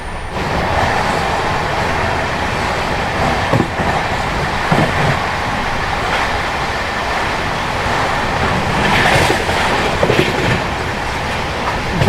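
The Sealdah–Varanasi Amrit Bharat Express runs at about 127–130 km/h. A dense, continuous rumble and roar of rolling stock fills the sound, with rhythmic wheel clatter over the rail joints and no voices.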